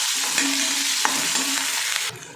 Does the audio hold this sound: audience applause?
no